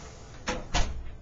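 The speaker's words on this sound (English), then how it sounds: "I'm going to close my door." A car door shuts on a wintry road with washboard ice, two quick close thuds in succession, the second a little heavier, against a low background rumble.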